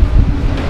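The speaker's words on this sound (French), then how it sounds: "25 nœuds de vent" Strong wind of about 25 knots at sea aboard a sailboat between Haiti and Cuba at night, a loud buffeting rush of wind noise against the microphone, brief and continuous.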